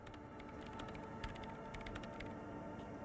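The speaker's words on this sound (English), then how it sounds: "Typing in numbers that only she understands." Soft keyboard typing in Disco Elysium, a quick irregular patter of keystrokes clustered in the middle of the clip, sitting over a low ambient hum with no voices.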